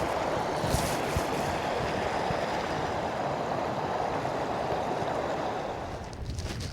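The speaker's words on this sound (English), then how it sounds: "It's probably the only waterfall I've seen all day." Continuous broadband rush of a waterfall beside a fell walk in the Lake District near Mellbreak, steady and fairly loud throughout with no talk.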